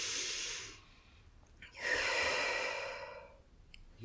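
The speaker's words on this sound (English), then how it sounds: "Now I'm going to ask you to take 3 deep breaths." Two slow, deep breaths taken during a guided meditation, the first a long airy inhale that fades out, then after a short pause a louder, fuller breath that swells and trails off, close and alone.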